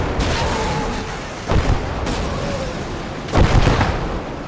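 Heavy gunfire and booming blasts in a World War II Battle of the Bulge war game as a Panzer tank is destroyed: two loud bursts stand out over a continuous rumbling battle din, with no voices.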